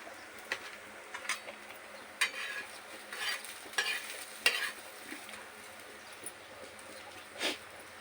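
Bhaji fritters for buttermilk kadhi sizzle faintly in a kadhai, with intermittent soft stirring and scraping bursts over a quiet background.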